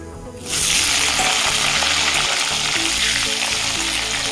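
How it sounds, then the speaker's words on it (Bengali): Cut potato pieces with whole cumin hit hot oil in a pan, a loud sizzle that erupts suddenly and then holds as a steady, close crackling hiss with occasional faint stirring. "আলুটাকে আমি লাল লাল করে ভেজে নেব।"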